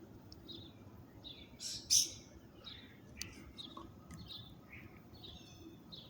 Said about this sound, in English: this tree is full of woodpeckers